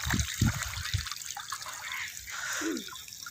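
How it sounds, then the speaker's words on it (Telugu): Water trickling and dripping across a rain-flooded farm field, a steady watery wash with a few louder splashes near the start, faint outdoor background throughout. "ఇదిగోండి వాటర్ ఎలా కారుతుందో."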